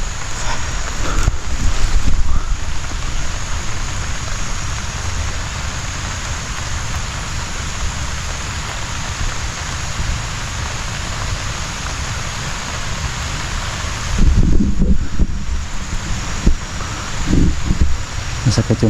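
Steady rain falls outdoors with a constant broadband hiss and some wind noise on the microphone, loudest near the start and again toward the end, with no talk over it.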